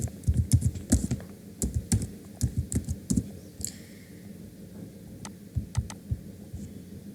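Typing on a computer keyboard: quick irregular bursts of close key clicks and taps, loud and near, pausing briefly midway and then resuming more sparsely, with no talking.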